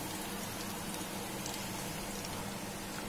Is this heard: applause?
no